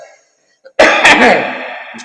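A single loud, harsh cough bursts out after a moment of near silence, with a rough throat-clearing quality that trails off.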